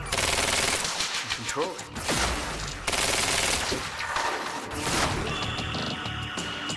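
Rapid automatic gunfire from the video game Quantum Break crackles in dense bursts, with a short shouted line over the shooting.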